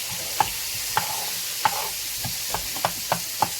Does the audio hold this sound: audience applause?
no